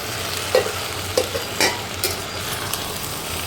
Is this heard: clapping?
no